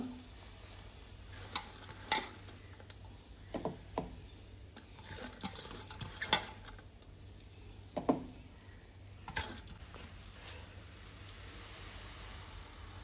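Chopped taro leaves added to a pan with onions and chilies and stirred, with quiet, scattered scraping and rustling taps over a faint sizzle, close and soft.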